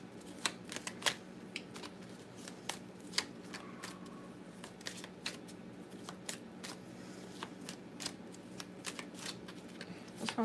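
Tarot cards being shuffled, with soft crisp riffles and light clicks coming in irregular bursts, close and quiet, with no talk.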